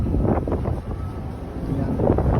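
Strong winter wind in Norway with waves nearby, a loud, continuous rumbling buffet of gusts against the microphone, with rough surges throughout.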